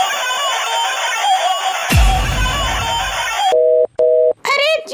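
A phone line gives repeated ringing tones, short beeps separated by pauses, after a stretch of louder mixed noise.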